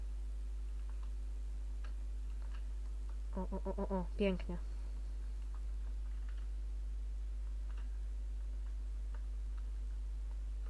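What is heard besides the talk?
ticking clock in video game BeamNG.drive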